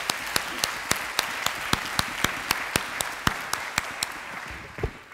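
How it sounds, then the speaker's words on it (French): Applause for a graduate at a bachelor's degree ceremony comes as distinct, evenly spaced claps, sparse and rhythmic over a light crowd patter. "Je crois qu'on peut l'applaudir"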